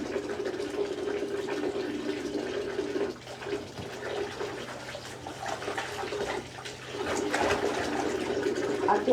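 Kitchen tap water runs into a sink while dishes get a pre-rinse, a steady faint splashing flow that dips briefly twice and carries on with small clinks, no talking.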